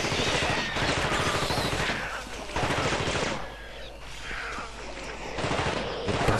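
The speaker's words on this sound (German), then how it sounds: "Das ist mein Maschinengewehr." Rapid machine gun bursts rattle in the video game The Thing, coming in dense, loud volleys separated by brief pauses, with game noise between them.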